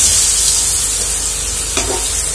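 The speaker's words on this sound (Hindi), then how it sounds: "इसलिए हम इसको हाफ ही फ्राई करेंगे।" Potatoes half-fried in hot oil for crispy honey chilli potatoes, a steady close sizzle and bubbling hiss throughout with a brief stir or clatter near the end, no talking.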